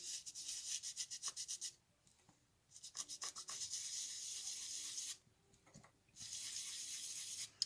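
A blending tool rubs ink onto the edges of a handmade card in quick rhythmic scrubbing strokes, in close, soft bursts separated by short pauses.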